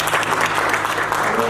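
Dense, loud applause and cheering from a large audience at a cryptocurrency launch event, a steady unbroken wash of clapping filling the whole moment.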